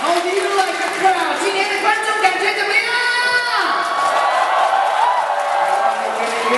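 A large crowd at a basketball court event for Derrick Rose cheers and shouts steadily throughout, dense and continuous, with children's voices and whoops mixed in over a constant roar.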